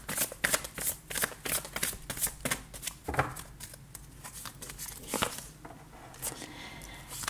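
Tarot cards being shuffled for a fresh draw, a run of crisp riffling and slapping bursts up close, steady and fairly loud with brief pauses, no talking.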